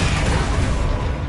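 A Bombarda explosion spell goes off in Hogwarts Legacy, a single dense, loud blast rumbling low and filling the whole short moment, with no voices over it.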